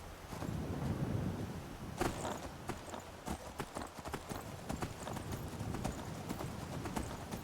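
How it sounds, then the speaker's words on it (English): Armored horse's hooves clip-clop in a steady walking rhythm on a hard surface in Skyrim, close and moderately loud, with faint wind behind. "Makes me feel like we're riding a war horse."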